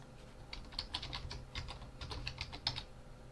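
Quick, light keystrokes on a computer keyboard, a steady run of close, soft clicks in a quiet room.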